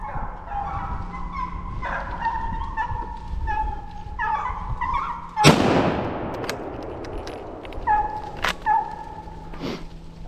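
Hunting dogs bark repeatedly while driving a group of four wild boars during a driven hunt, calls coming in irregular bursts at mid distance, with one sharp loud crack partway through.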